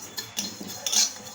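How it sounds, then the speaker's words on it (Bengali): Fennel and black cumin seeds fry in a pan for dried mango pickle while a spoon stirs them, giving a brief run of light clinks and scrapes close by over a soft sizzle. "একটু নেড়ে চেড়ে নেব।"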